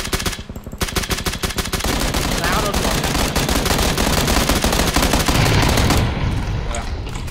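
Rapid automatic gunfire in PUBG, loud and sustained across the whole stretch, with dense bursts of shots and a few heavier reports under an excited voice.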